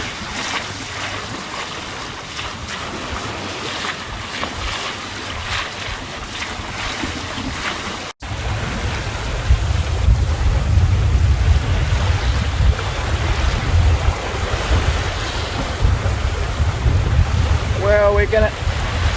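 A sailboat motoring at sea on a reach under engine power, with a loud steady wash of wind and waves against the hull, heavy microphone wind buffeting and a low engine drone, with no voices.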